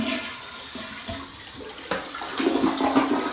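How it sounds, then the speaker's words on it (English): A toilet is flushed as part of a move-in inspection, a rushing gurgle of water that swells and grows louder toward the end, heard close with no voices. "And here we do a flush test."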